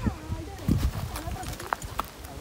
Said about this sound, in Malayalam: കുതിര സവാരി ചെയ്യാൻ പോവാം